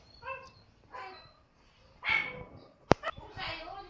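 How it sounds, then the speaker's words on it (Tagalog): A dog barks in short yips and whimpers, several separate bursts fairly close by, with one sharp loud bark near the end and a person talking around it. "Tumatahol yung si Begel"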